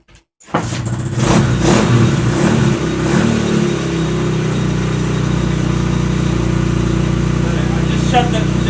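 A Lifan 125 engine on an X2 Ninja pocket bike starts up abruptly after a brief quiet moment, then runs loud and close with a steady droning idle and slight wavering for several seconds.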